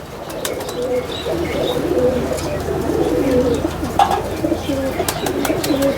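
Pigeons coo softly in low, repeated rolling phrases against a faint background hum, with a few light chirps mixed in.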